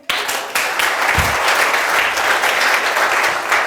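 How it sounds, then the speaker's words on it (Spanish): Church congregation gives a lively round of applause, dense close clapping that starts abruptly and continues steadily with a brief low thump partway through. "Un aplauso al Señor."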